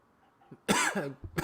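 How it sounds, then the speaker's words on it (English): A harsh, close cough bursts out after near silence, followed moments later by the start of another cough. "Coughing and shit. It's not COVID."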